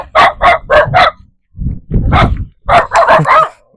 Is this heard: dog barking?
yes